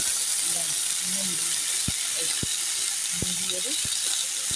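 Potato, pumpkin and pointed gourd curry frying in a pan, a steady hiss and sizzle throughout, with a few sharp clinks of a utensil and faint background sounds.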